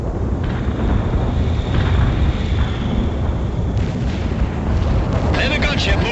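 An Apache gunship in the World in Conflict video game fires on a target, producing a dense, continuous roar of heavy gunfire and explosive blasts that stays loud throughout, with sharper bursts toward the end.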